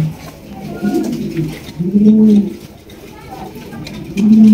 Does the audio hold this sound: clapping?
no